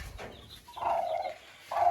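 Hens sheltering from 40-degree heat inside a cool henhouse give off soft clucks and low cooing calls, a few short murmurs near the microphone against quiet surroundings.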